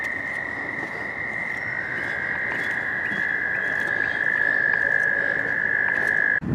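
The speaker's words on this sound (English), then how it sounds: "listen to those toads. I love that sound." A dense chorus of toads trilling continuously in a high, steady drone, with faint background rustle.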